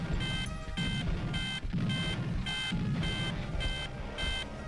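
Rapid electronic beeping of an alarm clock in Army Men: Sarge's Heroes 2 comes in regular bursts, each lasting about half a second with short gaps, loud and insistent with no voices.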